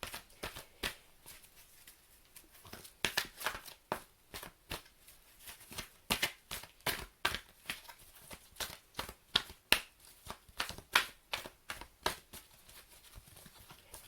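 Archangel Oracle cards are shuffled and drawn, giving close, crisp riffling snaps and flicks in quick irregular bursts with short gaps, quiet and heard on their own without talk.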